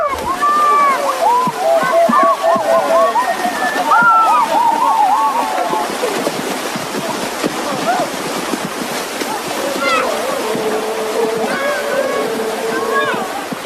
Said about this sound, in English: After the meeting, the men head for a small river on the other side of the village to bathe.